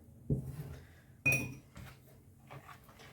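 A utensil knocks twice against a bowl with sharp clinks, followed by light scraping and stirring of pancake batter, quiet and close by.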